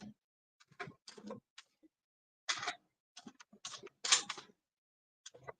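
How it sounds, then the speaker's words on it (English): Bursts of typing on a computer keyboard, quick clusters of key clicks separated by short silences, fairly faint and close. "Y'all hear me typing."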